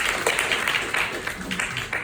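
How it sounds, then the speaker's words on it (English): Audience at a storytelling event giving a brief round of applause, a dense patter of many hands clapping at moderate volume, steady and then beginning to thin out. "Let's give her another round of applause."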